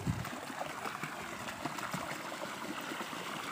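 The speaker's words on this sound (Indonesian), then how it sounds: "Airnya kencang nih. Ambil dari air terjun." Fast water from a waterfall rushing steadily in a continuous, fairly quiet wash near Curug Cimanintin, Salopa, Tasikmalaya, Indonesia.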